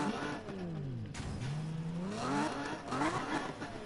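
A loud car engine in Need for Speed 2015, revving up and down in rising and falling sweeps during midnight street racing, close and continuous with no talk.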